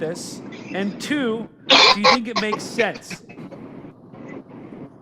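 A sharp cough breaks out between stretches of conversational speech on a severe weather broadcast, sitting close and loud among the voices.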